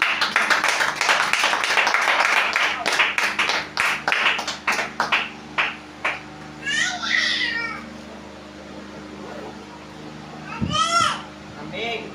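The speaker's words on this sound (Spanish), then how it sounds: "Un aplauso al Señor" Members of a Spanish-speaking church congregation clap in praise during a service, dense applause settling into rhythmic claps that fade out, followed by children's voices and a cat-like squeal.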